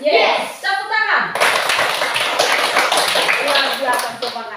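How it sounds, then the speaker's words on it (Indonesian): A burst of many children clapping together in a classroom, a dense crackle of hand claps after a brief spoken cue, sustained for a few seconds nearby. "Tepuk tangan."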